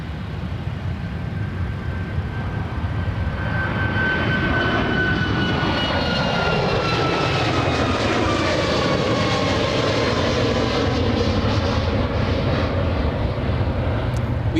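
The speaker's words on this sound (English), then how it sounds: "We have Alaska 238 flying to Seattle, Washington. A 737 MAX 9." Alaska Airlines Boeing 737 MAX 9 taking off from Anchorage Ted Stevens airport, a loud sustained jet engine roar with a whining tone that swells and shifts in pitch as the aircraft passes, continuous for the whole span.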